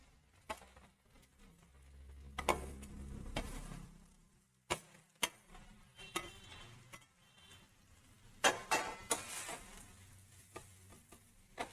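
Fried vegetables are tipped into a pan with tomato sauce and crushed black pepper, then stirred for a crispy veg dish. Scattered soft thuds and sharp spoon clicks against the pan come and go over a quiet background, with no talking.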